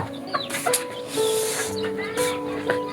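Several chickens cluck and squawk close by in short irregular bursts at feeding time in a Nepali village, with a steady low hum beneath them.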